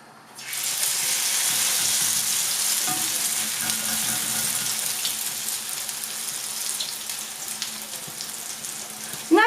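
Zucchini fritters sizzle in hot oil over medium heat, a continuous crackling hiss that starts abruptly and holds steady, with a few small clinks and a brief louder scrape at the end.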